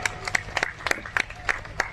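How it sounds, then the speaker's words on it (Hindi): A small crowd at a social gathering claps in a brief round of applause, with scattered, fairly faint, irregular hand claps. "इसके लिए मैं चाहूंगा आप लोग ताली बजा के उनका स्वागत करें।"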